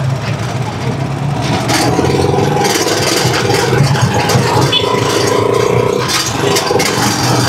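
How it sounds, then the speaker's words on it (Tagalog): A Rusi Chariot 175 cargo motorcycle, loaded with a heavy cargo, runs with a steady mid-pitched engine drone and some scraping and rattling mixed in. The sound is close and loud, and someone talks over it. "Actually matining talaga yung makina."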